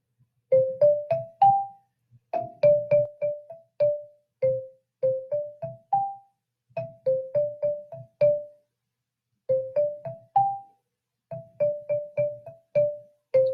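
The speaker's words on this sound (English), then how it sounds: "A xylophone can play all sorts of songs." Bright wooden xylophone notes pick out a simple repeating tune in short phrases, each note ringing briefly before the next.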